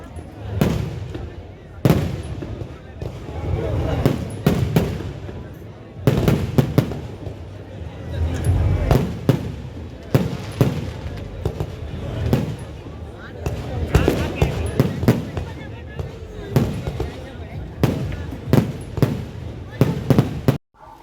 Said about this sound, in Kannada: ಎಂಕ್ಲು ಪೋಪುನಾಗನೇ ಪಟಾಕಿ ಮತ್ತು ಬುಡ್ರ ಸ್ಟಾರ್ಟ್ ಮಾಡ್ತಿರ್ತಾರೆ